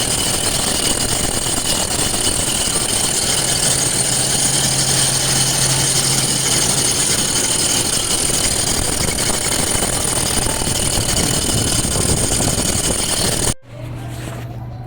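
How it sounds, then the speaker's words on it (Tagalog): A running Toyota Fortuner engine with a noisy drive belt gives a steady, loud mechanical drone with a continuous whir and a low hum, close by and alone, before it cuts off abruptly near the end. "maingay ang belt ng Fortuner nila"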